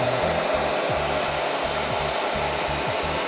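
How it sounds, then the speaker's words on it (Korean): A hair dryer set to its strongest cold-air mode blows at full force, used to blast water off a 2080 Ti Kingpin graphics card, a loud, steady rushing whoosh with a pulsing low motor hum, close and continuous. "그 드라이기를 가져와서 제가 먼저 하는 건 뜨거운 바람이 아니라 찬바람 모드로 하고서 제일 강하게 해서 먼저 물기를 다 날릴 거예요."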